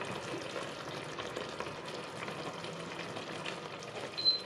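Tofu fried with egg in a spicy sauce simmers in a pan for about two minutes, giving a steady, moderately loud bubbling sizzle that holds evenly throughout, with a brief louder pop near the end.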